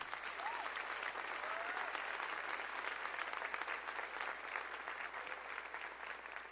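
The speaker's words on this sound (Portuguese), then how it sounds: "Você pode aplaudir a Jesus." A church congregation at a Portuguese-language youth service applauds for Jesus, with steady, crowded clapping filling the room at a moderate distance and faint voices mixed in.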